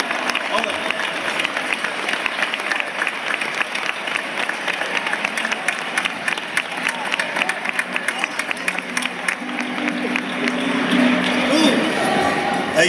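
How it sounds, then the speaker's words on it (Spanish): A large festival audience applauds steadily for a Cádiz performer, dense clapping and crowd noise filling the room throughout and swelling louder near the end. "Un aplauso enorme"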